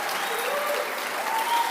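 A church congregation applauds newly baptized people at a special Sunday baptism service, with steady, dense clapping filling the hall throughout.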